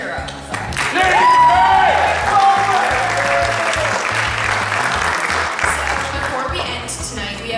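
Festival audience at a film-festival evening ceremony applauding and cheering, loud sustained clapping with whoops and a raised voice or two near the start, easing slightly toward the end.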